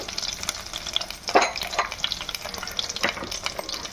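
Cumin, curry leaves and chopped green chillies fry in a hot pan, giving a steady close sizzle with intermittent stirring scrapes and small crackling bursts throughout.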